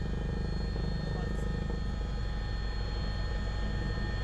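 Helicopter giving tourist rides at Mahabaleshwar, a steady droning rotor and engine hum holding evenly throughout, moderately distant, with no other sound standing out.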